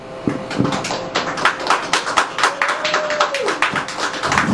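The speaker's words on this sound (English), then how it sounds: "we need to be able to just give a round of applause to Stephanie." An audience at a small live show gives a round of applause, with distinct, fairly sparse hand claps in an uneven rhythm, close and moderately loud, with faint talk underneath.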